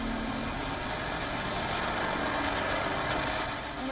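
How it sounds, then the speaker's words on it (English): A truck passes close by on a road, a loud continuous engine roar with an air hiss near the start, steady throughout the few seconds. "I'm going to wait for this truck to pass by."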